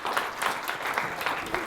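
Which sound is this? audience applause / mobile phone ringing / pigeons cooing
audience applause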